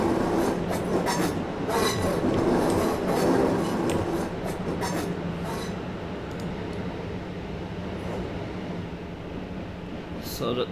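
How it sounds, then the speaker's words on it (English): A train passes in Train Simulator 2020 near Epsom, on a route from London Waterloo toward Dorking and London Victoria: a steady loud rumble with rail clatter and light wheel squeal, slowly fading, with a voice talking over it. "So that train basically came from that side, from London Waterloo."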